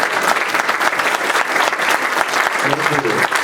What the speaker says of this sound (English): Join me with a loud round of applause for Kevin Stroup.